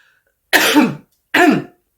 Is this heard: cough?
yes